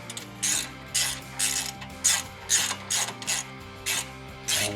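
Bolts on an aluminum skid plate for a Harley-Davidson Touring motorcycle being tightened with a ratchet, about eleven quick clicking bursts in an even rhythm, close and clear with no talking.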